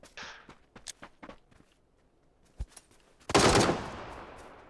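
A silenced shotgun fires in the video game PUBG: a single heavy muffled blast that rings out and decays, after scattered footsteps and small clicks in a quiet interior.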